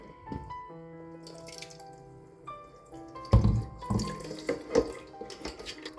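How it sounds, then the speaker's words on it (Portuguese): Water from soaked papier-mâché pulp pours through a small kitchen sieve, trickling and splashing in uneven bursts with drips between them, close and fairly quiet, with no one speaking. "Agora a gente vai tirando daqui e vai passando na peneirinha, tá? Vai tirando a água."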